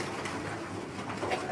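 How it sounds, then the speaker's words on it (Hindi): A breeder pigeon kept at a home loft coos softly and continuously, close by, over a dense wash of background noise. "खलीफा साहब के घर का कबूतर है ये, ठीक है जी, ब्रीडर कबूतर है।"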